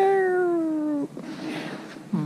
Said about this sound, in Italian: c'è un gatto. Anche due.